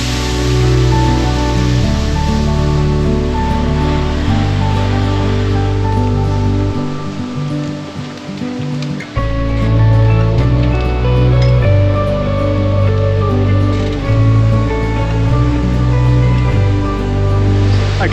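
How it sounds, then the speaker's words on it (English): Waterfall on a mountain trail during a 60 km ultra race, a loud, dense roar of falling water that washes over everything, briefly dulled before returning at full strength, with faint breathing or movement beneath. "I am standing under a waterfall. We've just run under a waterfall."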